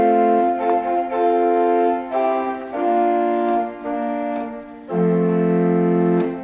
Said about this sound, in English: Here's the sound of the fundamental organ sound.